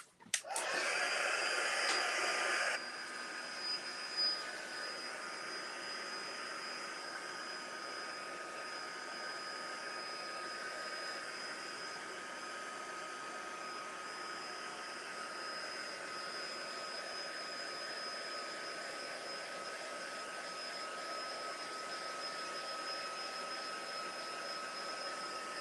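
A hair dryer runs steadily on mixed media artwork, a loud close whooshing that starts abruptly, drops slightly in pitch after a few seconds, then holds as an even airy whir throughout.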